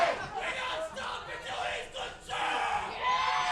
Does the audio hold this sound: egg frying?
no